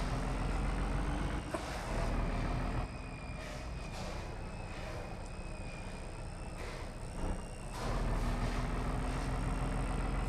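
Traffic in an Indian truck simulator game, a continuous low engine drone with rumbling vehicles and brief shifts in tone, steady and fairly loud.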